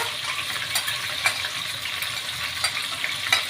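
Green chilies and onions fry in hot oil for an egg curry, giving off a steady close-up sizzle with occasional soft clinks and crackles and no talking.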